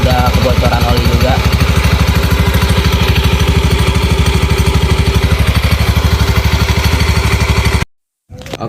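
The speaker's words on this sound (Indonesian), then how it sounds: "Nah ini ada suara kemericik di bagian CVT." A Honda Beat FI scooter engine runs with a steady, rough rattling from a worn CVT, a loud continuous idle clatter that then cuts off abruptly near the end.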